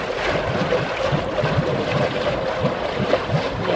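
Steady low engine rumble and exhaust from a Linssen 320 AC Dutch Sturdy river cruiser, recorded outside on a cool November day, with wind and water wash mixed in throughout.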